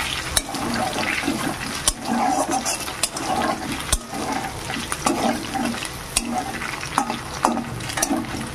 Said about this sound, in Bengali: কচুগুলোকে খুব সুন্দর করে তেলে ভেজে কচুগুলো সেদ্ধ করে নেব